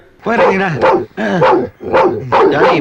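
A dog barks repeatedly in four loud, close bursts with a rough, voice-like quality, each bark separated by brief gaps.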